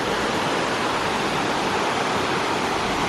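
The Bigar waterfall in Romania roars as a loud, steady, broadband rush of falling water, continuous and close, with no voices over it.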